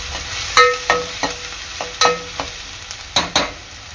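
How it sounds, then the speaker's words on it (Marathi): Onion frying in a pan for sambar, with a low sizzle beneath a series of distinct scraping and clinking strokes as a spoon stirs, roughly eight separate hits spread unevenly across the stretch. "कांदा चांगला लाल होईपर्यंत शिजवून घ्यायचा आहे।"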